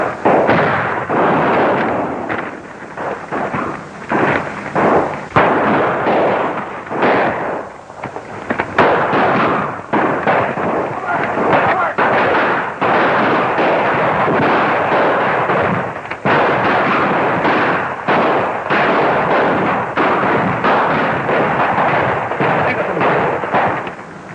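Heavy, sustained gunfire rattles through a 1935 naval adventure film serial, with dense rapid shots and bursts piling up almost without pause for the whole span, loud and close.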